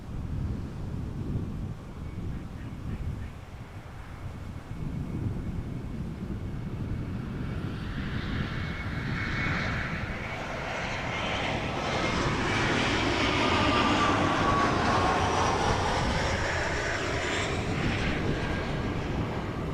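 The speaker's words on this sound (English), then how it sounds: "KLM Embraer 175 in the meantime landing." A KLM Embraer 175 jet lands at Amsterdam Schiphol Airport on a summer evening, its engine roar building steadily and staying loud and broad throughout, with some wind buffeting the microphone.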